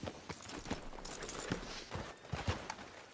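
Steady clip-clop of a horse's hooves at a walking pace in a video game, moderately close, with a faint ambient bed behind the rhythmic footfalls.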